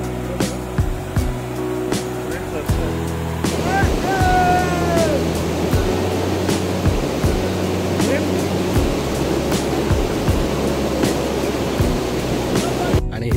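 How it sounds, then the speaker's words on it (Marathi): Steady broadband rush of a river flowing through monsoon-green Konkan countryside near rice paddies, continuous and fairly close, with faint bird-like tonal calls briefly rising above the water noise. "आणि ही नदी आहे."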